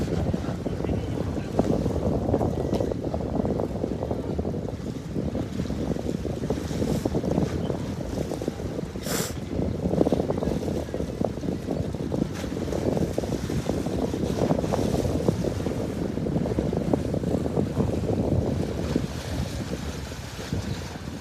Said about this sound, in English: Ooh, the water's splashing.